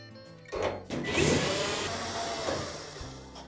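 A power screwdriver backing out screws from the front panel of a Norge dryer, with a short whir, then a longer grinding spin with rattling sheet metal, fairly close and alone.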